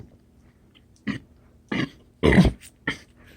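Four short, gruff burps come after drinking kombucha at a home dinner table, spaced about half a second apart and close to the microphone, the third one longest and loudest.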